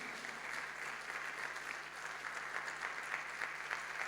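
A church congregation applauds steadily, dense clapping sustained throughout with a faint hum underneath, sounding like a full room.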